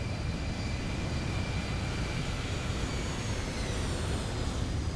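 Boeing 737-800 jet engines roaring steadily during the takeoff climb in the X-Plane 11 flight simulator, a loud continuous broadband drone with a faint high whine and no pauses.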